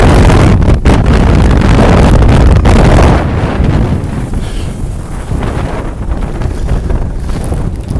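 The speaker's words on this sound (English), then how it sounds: "It's a little bit windy today." Steady wind roars across the microphone in loud broadband rushing gusts on the Intracoastal Waterway with rough seas, strongest at the start and easing slightly after a few seconds.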